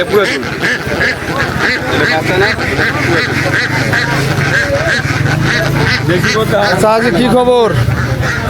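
Farm ducks quack and honk at a Benir Haat duck market, squawking repeatedly amid busy trading, with a voice talking over them and a louder burst of calls near the end.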